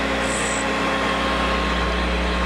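A steady, loud mechanical whine of a grinding wheel running continuously as it sparks out on a drill bit, with a faint hiss of light contact and no voices.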